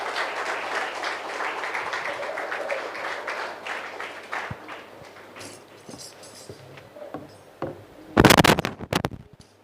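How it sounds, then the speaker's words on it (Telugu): Audience applause at a church Bible seminar on the Book of Revelation welcomes a guest preacher, steady clapping filling most of the stretch before fading, then a few loud close claps near the end. "అందులో చప్పట్లు కొట్టి ఆహ్వానించుదాం"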